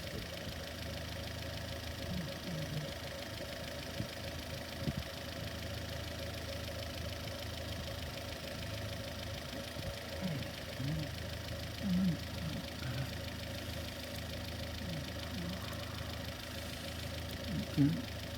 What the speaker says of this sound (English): We know we got an injector here, right here.